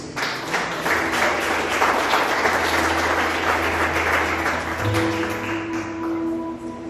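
A church congregation applauds during a sermon, a full round of clapping with a low sustained hum or organ tone underneath, steady then thinning near the end.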